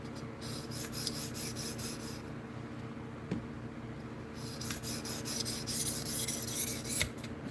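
Steady rasping strokes of a knife drawn across a 400 medium-grit whetstone, repeated in an even back-and-forth rhythm, close and moderately loud with no talking.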